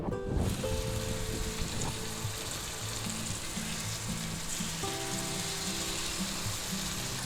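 Seasoned boneless center-cut pork chops sizzle in peanut oil in a cast iron skillet, a steady loud hiss and crackle with light background music.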